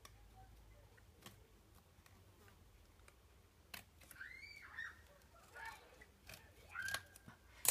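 Scissors cut paper for a scrapbook project organiser, giving faint, scattered close snips and slicing strokes over a quiet background, with a few louder cuts near the end.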